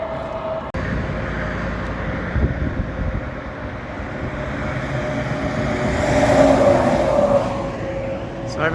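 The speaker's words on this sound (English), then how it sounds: "Sorry about the road noise, folks." Road traffic rolls steadily past on a highway bridge over the Shenandoah River, a continuous loud drone with a vehicle swelling closer near the end, heard from the roadside alongside a walker.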